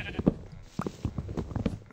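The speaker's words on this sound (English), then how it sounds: "Look at all these sheep." Sheep in the Minecraft video game bleat in short repeated bursts, several calls spread across the moment, moderately close and mixed with other low game noises.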